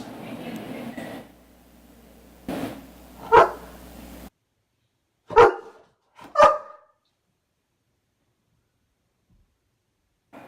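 A few dog barks come from a house dog, likely from other dogs outside, in sharp separate bursts after some early background noise, then silence.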